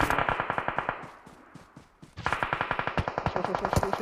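Automatic gunfire from a video game comes in rapid bursts, loud and close with echo: a fast rattling burst, a short pause of fading reverb, then another sustained burst.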